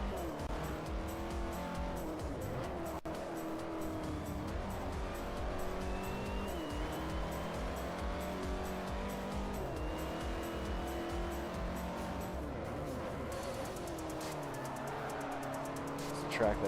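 Race cars including a Corvette roar around a circuit in Forza Motorsport 4, engines whining up and down through the gears with tire squeal, continuous and close, while someone talks over them.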